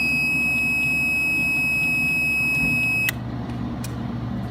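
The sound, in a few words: CO2 laser water flow monitor alarm, laser started without water flow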